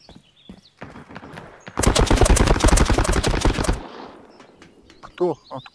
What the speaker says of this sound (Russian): Рядом кто-то стреляет.